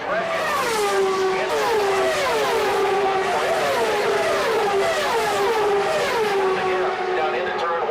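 Open-wheel race cars at the 2000 Michigan 500 roar at full throttle, engines rising and falling in repeated high-pitched sweeps as several pass close by, loud and continuous with a commentator talking over them.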